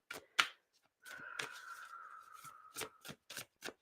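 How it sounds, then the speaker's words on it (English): A deck of Quantum Oracle tarot cards is shuffled by hand in quiet, close-up bursts of riffling and sliding, with one longer steady whir of cards in the middle. "Give them a good shuffle."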